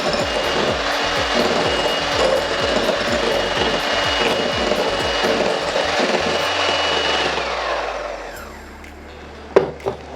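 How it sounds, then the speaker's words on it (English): An electric whisk mixer whirs steadily at close range as it whisks homemade yoghurt, with a rhythmic low chugging running through it. The motor winds down near the end, followed by a couple of light knocks. "It's the whisk of my whisk mixer to whisk it up"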